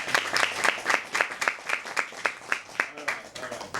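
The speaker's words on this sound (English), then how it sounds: "You can clap if you want to clap." Sparse clapping from an audience at a talk, a small number of people striking hands in a loose, fairly regular rhythm of distinct individual claps, fairly close and moderately loud.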